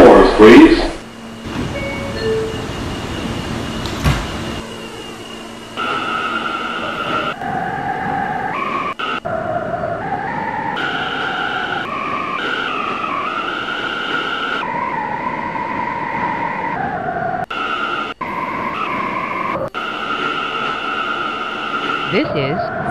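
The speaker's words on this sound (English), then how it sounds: "This is an M train to Metropolitan Avenue." An R179 M subway train on a Roblox line runs steadily in game, its motor whine rising and stepping through tones, with brief pauses and a faint automated station announcement over it.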